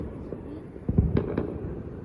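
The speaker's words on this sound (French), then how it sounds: "J'ai 4 feux d'artifice de là-haut." A few fireworks burst in a quick cluster of sharp pops and crackles, fairly near, over a low, murky background.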